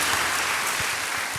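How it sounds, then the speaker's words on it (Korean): Brief, steady clapping from a church congregation during a Sunday worship service, a dense wash of hands that holds evenly through the moment. "박수하며 교제하겠습니다."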